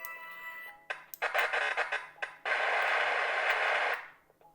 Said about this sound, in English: No, the saber's not broken. That's just a boot noise.